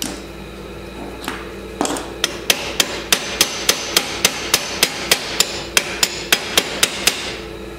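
Rapid, steady metal hammer blows strike a socket stuck on a Chinese 50cc-125cc ATV starter, about twenty sharp, close clanks in even rhythm after a few slower hits, with no talking.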